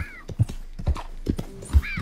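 Horse hooves clip-clop in a steady rhythm, with a neigh at the start and another near the end, from a horse in the Red Dead Redemption 2 video game; close and clear, with no talk.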